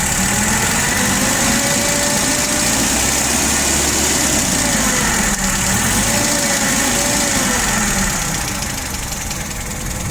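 A Nissan NL01A15D forklift engine idles, cold, a steady loud mechanical drone with a faint knocking rhythm and slight waver in pitch.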